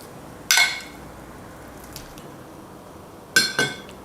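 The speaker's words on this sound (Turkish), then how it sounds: "Şimdi kaymağımı kabıma aktaracağım." Thick cream scraped from a container into a bowl for homemade butter, heard as two short clinking bursts of utensil against dish with a quiet gap between them.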